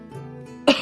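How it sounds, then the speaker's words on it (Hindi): An old man's single sharp cough bursts out near the end after a brief stretch of low, hoarse vocal rumbling, close and fairly loud. "वो बूढ़ा खांसते हुए कहता है,"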